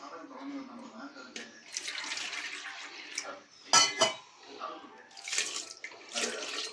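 Water is poured onto washed lentils in a pressure cooker, splashing in uneven gushes with a sharp burst midway; a voice talks around it.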